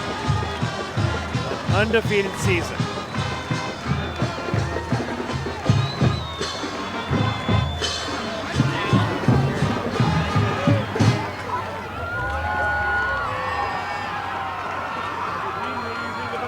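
A football crowd at a league championship game cheers and celebrates, a dense roar of voices and shouts under a commentator's talk, easing into a steadier crowd wash toward the end.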